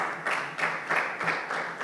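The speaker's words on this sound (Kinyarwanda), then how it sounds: "Mu ntiza amashyi mbashimire." Wedding guests applaud at a civil marriage ceremony, a steady wash of clapping that swells and dips in waves across the whole stretch without pause.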